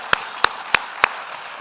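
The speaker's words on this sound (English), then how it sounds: "Please join me in a round of applause to the fantastic Hillel JUC staff team." Four sharp hand claps, evenly spaced and fairly close, ring out alone at a staff-recognition moment during a Jewish community annual meeting, like the thin start of a round of applause.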